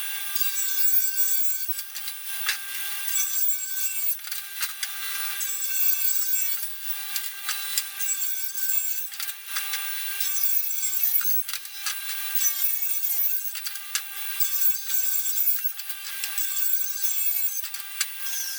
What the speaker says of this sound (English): Rip those boards down,